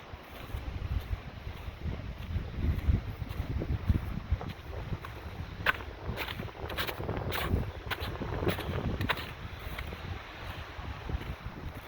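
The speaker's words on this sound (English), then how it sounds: "it's going to be really windy over this" Strong wind roars and buffets the microphone in uneven gusts on the summit of Mica Mountain, with low rumbling and occasional sharper blasts throughout.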